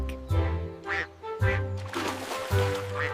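A voice imitates a duck, quacking repeatedly in a steady rhythm over a musical backing.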